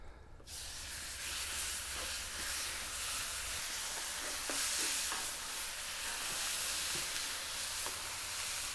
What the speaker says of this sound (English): So we're gonna get this onto a hot skillet